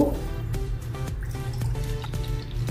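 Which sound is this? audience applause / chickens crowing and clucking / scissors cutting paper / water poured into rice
water poured into rice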